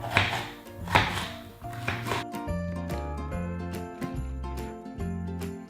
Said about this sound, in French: Je vais les émincer dans la largeur